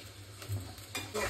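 Fenugreek leaves frying with golden onions and chillies in oil make a faint, soft sizzle, broken by a few quiet stirring scrapes of a spoon against the pan.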